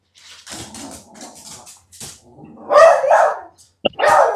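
A dog barks indoors in a string of quick, close yips and woofs, then gives several louder, fuller barks toward the end, with faint sounds in the background.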